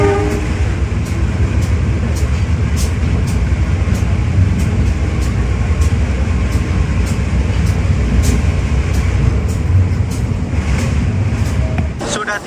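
An economy-class KA Airlangga train at Ngrombo station gives a loud, steady rumble with regular rhythmic clicks of the wheels, and voices murmur faintly underneath.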